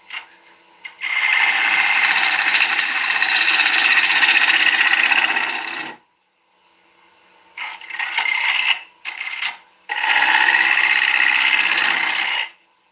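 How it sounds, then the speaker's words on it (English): Woodturning gouge cutting ash on a lathe: a loud, broad hissing shear runs for about five seconds, then stops and resumes in shorter bursts before another sustained pass, close and with no talk. "You're swinging that gouge round"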